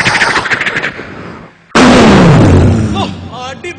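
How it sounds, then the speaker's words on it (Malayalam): A loud burst of firecrackers goes off on a comedy stage, a rapid crackling volley that cuts out briefly and then returns as a harsher, denser blast with a falling boom. "പിന്നെ ഇതാണ് നിയമസഭാ ഗുണ്ട്."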